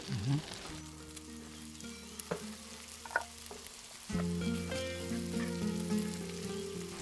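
Beets hit a hot pan with toasted coconut flakes and sizzle quietly, the frying growing louder partway through as they settle in, close by under occasional speech.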